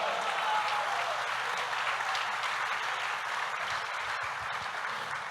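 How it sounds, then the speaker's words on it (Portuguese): Church congregation applauding during an evangelical sermon, a dense, sustained wash of clapping from a large crowd heard from some distance, steady and even in level for several seconds with no voices over it. "um aplauso a Jesus"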